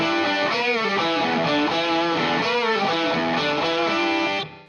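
Distorted electric guitar plays an intro riff with both parts layered, a loud, driving repeated pattern that continues steadily before cutting off at the end.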